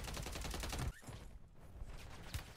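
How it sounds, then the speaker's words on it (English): Rapid automatic gunfire from Call of Duty Warzone, a dense burst of shots that cuts off abruptly, then sparse fainter shots and game noise follow. "Dude shot me out of the sky."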